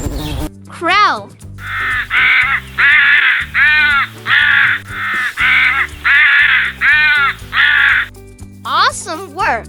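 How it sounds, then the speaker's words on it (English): A crow caws loudly about nine times in a steady rhythm, each call harsh and drawn out, over a cheerful musical backing, with brief voiced notes at the start and end. "Crow."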